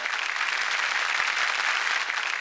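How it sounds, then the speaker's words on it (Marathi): Loud, dense applause from a studio audience at a Marathi comedy show, a steady unbroken wash of clapping with no talk. "जोरदार टाळ्या."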